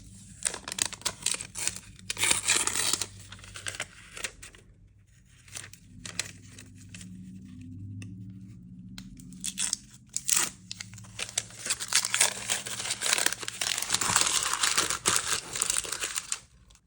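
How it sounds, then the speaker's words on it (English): Plastic wrapping crinkles and tears as a 140 watt MacBook Pro power adapter is unwrapped, close bursts of crackling with brief pauses and a quieter stretch in the middle, no talking. "we have our power brick right here, which I'll go ahead and unwrap"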